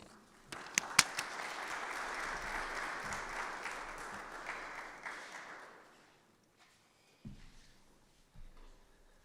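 An audience at the Antwerp Diamond Sessions applauds as a speaker walks onto the stage, opening with a few sharp claps that swell into steady clapping, then fades to silence before a few faint sounds.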